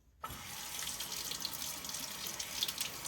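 Water runs steadily from a tap into a sink during a wet shave, with a constant close rush that begins abruptly after a brief silence and carries faint splashes.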